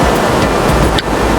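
Sea surf at Arambol Beach in Goa, heard as a loud, continuous wash of breaking waves mixed with wind rumble on the microphone.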